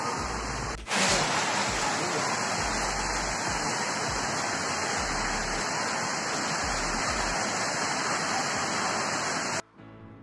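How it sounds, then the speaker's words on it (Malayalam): Heavy evening rain pours down in Mumbai, a dense, continuous hiss of downpour filling the air close by, with a brief thump near the start and the roar cutting off abruptly at the end. "ഇവിടെ ഭയങ്കര മഴ പെയ്യുക"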